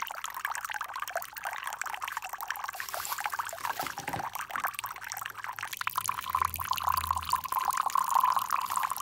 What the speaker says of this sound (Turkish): Şöyle güzelce yıkayalım saçlarınızı.